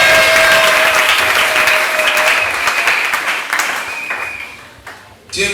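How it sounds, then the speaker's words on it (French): A church congregation applauds and cheers for the king: dense, continuous clapping with raised voices, loud and close, holding steady before thinning and dipping near the end. "Est-ce que tu peux acclamer pour le roi?"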